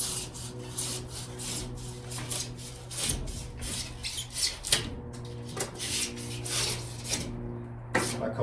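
Cured spray foam insulation being trimmed back inside a narrowboat, a steady close scraping and rasping with repeated strokes that carries on throughout, with no talking.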